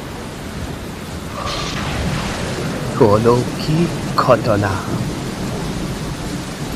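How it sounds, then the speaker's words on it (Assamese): A thunderstorm effect for an audio drama: a steady roar of heavy rain and hail with rumbling thunder under a voice that speaks briefly in the middle. "দবা পিটা শিল বৰষুণ"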